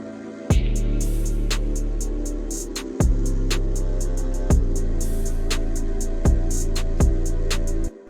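A dark trap beat with heavy booming 808 bass notes, crisp rapid hi-hats and snare hits, loud and up close.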